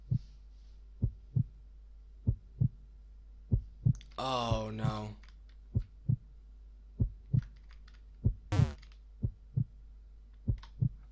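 Heartbeat sound effect from the horror game uhcakiP.EXE: loud, evenly spaced thumping pulses about twice a second, heard close, while a voice groans and exclaims over the beats.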